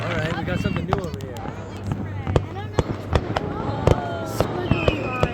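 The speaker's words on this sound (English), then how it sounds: "someone else joined the fireworks battle." Sharp cracks and bangs from competing fireworks displays seen from a boat, coming in bursts with rising whistles and squiggly crackling effects, while people talk over the noise.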